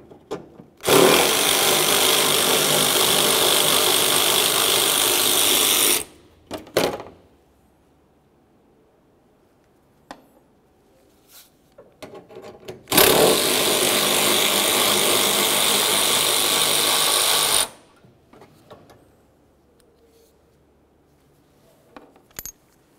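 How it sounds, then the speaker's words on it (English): A ratchet removes three 10mm bolts from the hood latch of a 2005-2010 Chevrolet Cobalt, with two long, loud, continuous rattling bursts of about five seconds each, separated by quiet handling clicks nearby. "We're going to remove 3 10mm headed bolts, 2 along the passenger side of the latch and 1 over on the other side."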